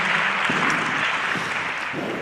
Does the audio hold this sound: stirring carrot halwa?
no